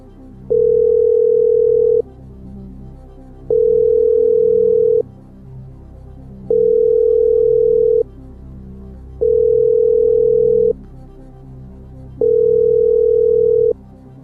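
A telephone ringback tone during a phone-a-friend call on the French quiz show Qui veut gagner des millions, staged in a theatre: five long, even, steady tones separated by regular pauses, clear and alone with no talk.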